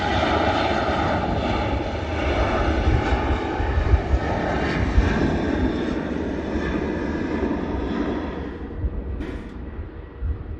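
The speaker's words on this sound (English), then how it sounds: "Airbus A330 Neo" Jet engines of an Airbus A330neo at Manchester Airport roar steadily and loudly for about nine seconds, a broad sustained rumble that fades slightly near the end, with no talk over it.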